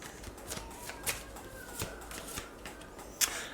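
Tarot cards are shuffled and drawn by hand, a series of soft riffling flicks and sharper card snaps at an uneven pace, close up with no speech.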